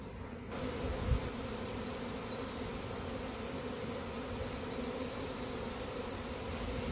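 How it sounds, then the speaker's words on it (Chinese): A honeybee swarm of hundreds of thousands of bees hangs in a large ball, making a continuous, fairly faint and even buzzing drone with no voices. "我们家今天的蜂子又跑了，一跑跑一窝，两窝"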